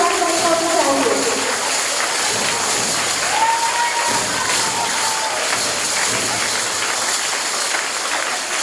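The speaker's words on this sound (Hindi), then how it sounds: "और जोरदार तालियां।" Dense clapping from a crowd at a girls' school annual sports event, a continuous wash of applause with whistles and cheering rising through it, with voices in the mix.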